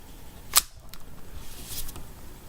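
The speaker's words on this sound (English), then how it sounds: "I'm going to slide the magazine into the gun." A single sharp metallic click as the magazine of a Ruger LC9s pistol slides home, followed by faint handling rustle in a quiet room.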